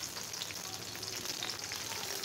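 Dried cumin seeds and whole garam masala sizzle in hot oil, a steady, dense crackling fry heard close and alone.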